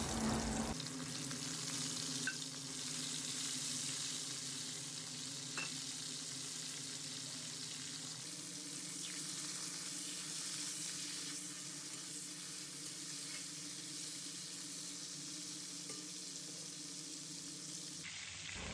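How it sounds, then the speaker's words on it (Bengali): Crab pieces rubbed with salt and turmeric frying in hot mustard oil in a kadai, a long, even, close sizzle that holds steady throughout, fairly quiet, with no voices. "কড়ার মধ্যে সর্ষের তেল গরম হয়ে গেলে নুন হলুদ দিয়ে মেখে রাখা কাঁকড়াটা ভালো করে ভেজে নেবো"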